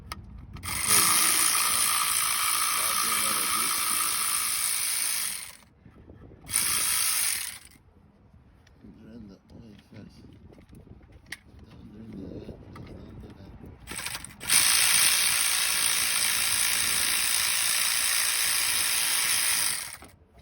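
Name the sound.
ratchet removing oil pan bolts on a Nissan Murano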